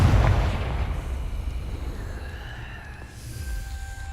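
A Confringo fire spell explodes in the wizarding game Hogwarts Legacy, giving a loud boom at the start that fades into a long, rumbling roar, with a faint whistling tone near the end.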